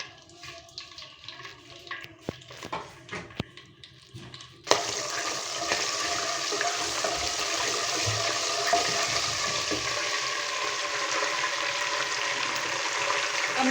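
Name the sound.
whole garam masala spices sizzling in hot oil for chicken karahi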